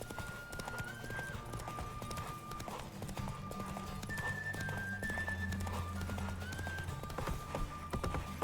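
Roach, the horse in The Witcher 3: Wild Hunt, galloping with a rapid, rhythmic clip-clop of hooves under game music, with a whinny or two rising above the beat.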